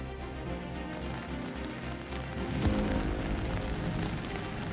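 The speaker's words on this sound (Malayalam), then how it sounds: "പത്തനംതിട്ടയിൽ ഉച്ചയ്ക്ക് ശേഷം കനത്ത മഴ തന്നെയാണ്" Steady heavy summer rain pours down in Pathanamthitta in a dense, continuous hiss, with a brief louder surge partway through and no voices.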